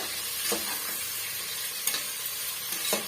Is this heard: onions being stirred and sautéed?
yes